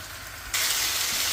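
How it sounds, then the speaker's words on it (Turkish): Chicken pieces for a chickpea chicken stew hit a hot pan and begin searing, a loud, steady broadband sizzle that bursts in suddenly after a quiet moment and holds constant to the end. "Bunları şimdi dört bir etrafını mühürleyelim, kızartalım."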